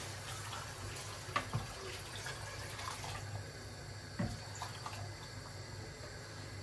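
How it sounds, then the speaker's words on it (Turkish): Water poured over dried beans in a pot for a Turkish meat-and-bean stew gives a steady, moderately faint pouring wash, with a couple of brief clinks and bumps along the way and no talking. "Şimdi biraz da su koyuyorum üstüne çıkana kadar"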